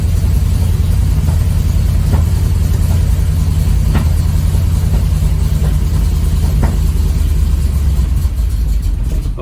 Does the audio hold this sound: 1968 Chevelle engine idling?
yes